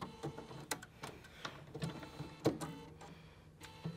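A Bernina 790 Pro sewing machine whirs and clicks steadily at close range, with irregular mechanical ticks and thumps over a continuous motor hum.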